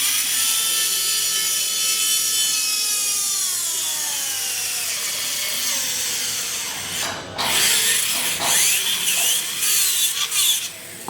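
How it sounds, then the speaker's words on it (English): A twist drill bores into a dense pterygoid implant practice model, giving a steady high-pitched whirring grind with a falling tone, then a short pause and a rougher, louder burst of drilling. "I'm going to slightly drill more because otherwise I will not be able"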